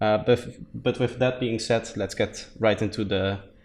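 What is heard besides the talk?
None of the usual background noises is heard.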